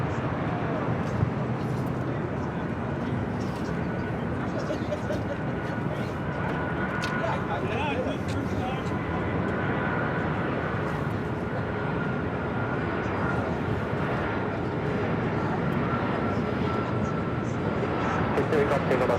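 A Boeing 757 arriving at LAX makes a steady, loud jet roar that stays broad and continuous throughout, with people talking over the engine noise.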